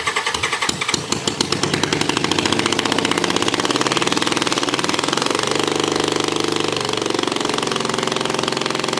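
A Toyota FJ40 truck engine cranks with rapid pulses, then fires and settles into a loud, throaty rumbling idle close by through a new exhaust.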